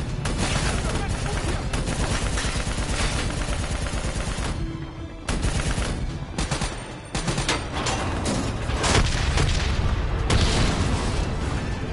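Heavy sustained gunfire aimed at a VTOL aircraft in a hangar battle in Call of Duty Black Ops, loud rapid shots mixed with booms and explosions nearly nonstop, with soldiers shouting over the din.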